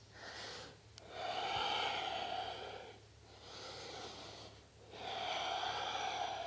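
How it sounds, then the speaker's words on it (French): Slow Ujjayi yoga breaths drawn through a constricted throat during a flow session, each long hissing inhale and exhale rising and falling in a steady cycle, close and fairly soft, with no talking. "je mets en place une respiration Ujjayi pour plus d'intensité au niveau de ma gorge"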